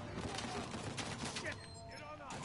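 Rapid bursts of gunfire in the video game Uncharted 4, a dense fusillade of shots in the first half that thins out later, mixed with game effects.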